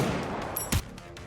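Gunfire in the Nikke video game: a brief burst of shots that peaks sharply midway through a dense, loud wash of game sound effects and background noise, with no talking.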